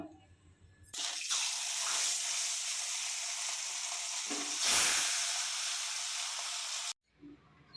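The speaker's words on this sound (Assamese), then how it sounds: "প্ৰথমতে আমি মাছৰ মাথাখিনি ভাজি ল'ম।" Loud, dense sizzle bursts in as fish heads hit hot oil in a pan, crackling steadily for several seconds with a brief surge, then cutting off abruptly.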